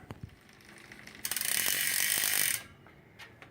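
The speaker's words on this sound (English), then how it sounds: "Then we need to adjust the front derailleur." Bicycle front derailleur being adjusted, a quiet tap or two then a steady whirring ratchet of the drivetrain for about a second, followed by a few light mechanical clicks.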